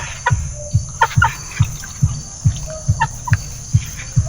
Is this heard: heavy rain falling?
no